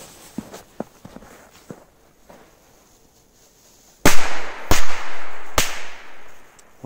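A few faint pops and clicks, then three loud sharp firecracker bangs in quick succession, each echoing briefly outdoors.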